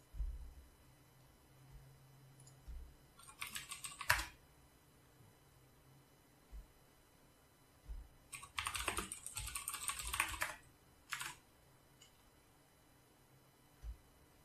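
Keystrokes on a computer keyboard while entering settings in a Metasploit terminal, coming in short clustered bursts of rapid clicks separated by pauses, with a few isolated taps, fairly close and alone.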